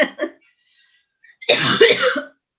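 A short throaty noise, then a pause, then one harsh, close cough that rasps for about a second before cutting off.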